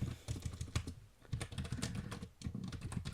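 Fingers typing on a computer keyboard in quick irregular bursts of sharp clicks with brief pauses, close and clear with no voices.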